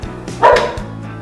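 A dog gives one short, loud bark, rising sharply out of a low steady background hum and then quickly fading.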